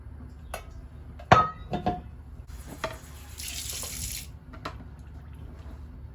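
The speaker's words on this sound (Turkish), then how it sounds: "suyu döktüm" Water is poured for tea at a breakfast setup, a brief rushing splash in the middle, with a few knocks and clinks of kitchenware around it in a quiet room.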